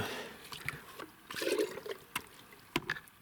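Spray solution is measured out a litre at a time, with soft, close sloshing, trickling and dribbling in short irregular bursts and a few sharp knocks from the container.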